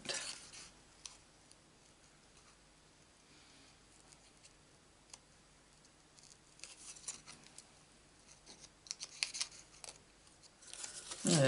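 Scissors cut paper for a handmade card, with quiet snips and rustles spread across a soft background and growing busier and louder toward the end, close to the listener.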